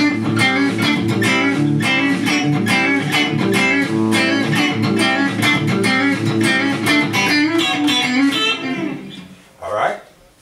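An electric guitar is played through a compressor pedal with its gain and output turned up, giving an even, steady run of picked chords for about nine seconds before stopping, with a brief sound at the very end.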